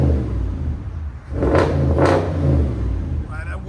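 Audi S7 with a 4.0L twin-turbo V8 and muffler delete, a 2017 widebody car, revving in two sharp blips over a steady low rumble, loud and close with talk around it.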